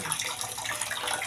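Water running steadily from a tap to fill a bath on a Saturday morning, a continuous close splashing hiss with no pauses.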